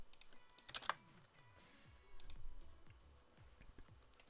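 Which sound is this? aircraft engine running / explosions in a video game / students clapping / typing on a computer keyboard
typing on a computer keyboard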